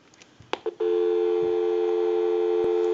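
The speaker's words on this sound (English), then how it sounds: "We'll go ahead and give you some dial tone," Western Electric telephone handset: a few quick clicks and dialing blips, then a loud steady dial tone that holds alone for the rest, with one faint click near the end.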